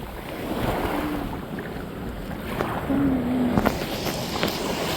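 Sea waves wash steadily onto a Lakshadweep shore where clams are being gathered, a continuous soft surging hiss with wind buffeting the microphone, fairly faint and without a clear break.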